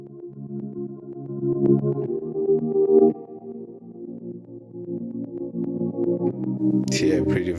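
An amapiano synth chord pad drenched in reverb and chorus, its tremolo and sidechain pumping giving a steady wobbling pulse; a brief bright burst enters near the end, and no one speaks over it.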